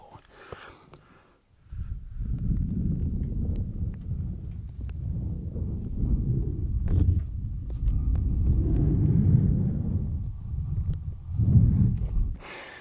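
A low, rolling rumble imitating a storm rolling in builds and swells in waves like distant thunder, recorded close-up and soft, with brief crinkly sounds at the start.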